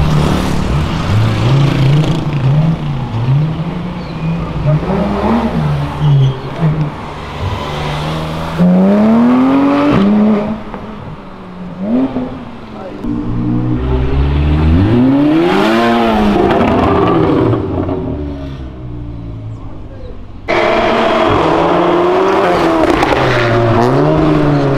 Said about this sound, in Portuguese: dá pra você mostrar o ronco do carro sem acelerar